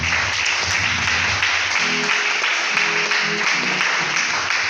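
Church congregation clapping in praise of the Lord, a steady wash of applause filling the room, with faint musical tones and scattered voices underneath.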